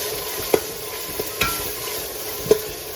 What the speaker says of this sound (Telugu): అవి మంచిగా కొద్దిసేపు పచ్చివాసన పోయేదాకా ఏడనిద్దాం ఆయిల్లో